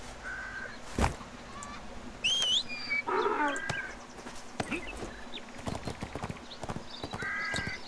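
A donkey walks in the ArcheAge video game, its hooves clopping unevenly and fairly close, mixed with a few whistling bird-like calls and short harmonic cries.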